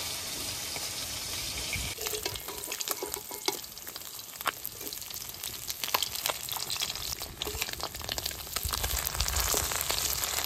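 Fresh river fish fries in hot oil, a continuous crackling sizzle that turns busier and louder after the first couple of seconds, with scattered spatters and pops and no talking.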